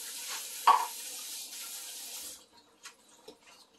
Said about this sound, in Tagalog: Damihan natin ng tubig.